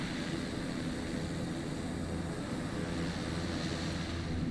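Beech Starship turboprop taxiing in Flight Simulator 2024, a steady broadband engine and propeller roar holding constant and close, with no talk over it.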